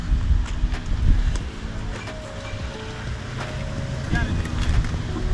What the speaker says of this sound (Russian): Ветер сильно поднялся